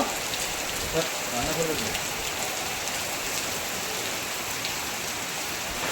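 Steady rain falls on a balcony, a continuous broadband hiss of drops with brief faint voices near the start, constant and moderately loud throughout.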